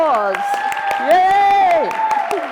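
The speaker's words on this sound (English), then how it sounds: "So, time for applause." An audience at an education conference session claps and cheers. Loud whooping and sliding voice-like calls ride over sharp individual claps for a short burst.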